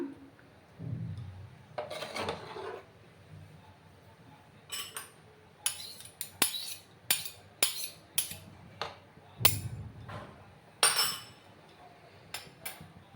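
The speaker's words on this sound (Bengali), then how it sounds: "ভালো করে আমি একটু নাড়াচাড়া করে দিলাম।" A spoon clinks and scrapes against a pot while sticky rice pudding is stirred, giving a dozen or so sharp, close knocks in an uneven rhythm with quiet gaps between them.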